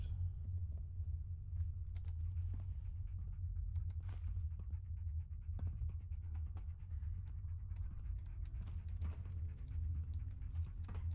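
A dog pants steadily and close by in the Fallout: London video game, a continuous rapid breathing rhythm over a low rumbling backdrop with scattered clicks.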